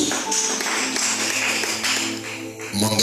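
A church congregation at a fellowship service claps for Jesus in a dense, steady wash of many hands that fills the room throughout, with faint sustained music tones underneath.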